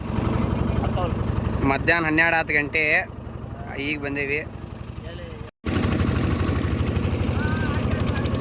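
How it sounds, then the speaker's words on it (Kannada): A boat engine at Honnavar drones steadily and low throughout, close and continuous, with people talking over it and one brief dropout near the middle. "ಬೋಟ್ನಾಗ ಅದೇವಿ, ಬೋಟ್ನಾಗ ಹೊಂಟೇವಿ"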